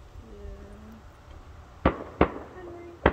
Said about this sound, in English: we've got our neighbors setting off fireworks